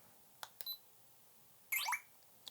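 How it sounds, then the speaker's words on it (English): A Ricoh Theta X 360 camera giving short electronic shutter beeps: a couple of quick clicks and tones, then a brighter rising chirp lasting a fraction of a second, and a final tick, all faint in a quiet room. "this is only a beep once you press the shutter button"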